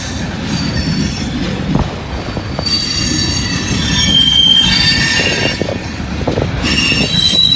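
Freight train wheels squeal on a curve, high piercing screeches rising and falling over a constant rumbling roll of rail cars, loud and close with no voices.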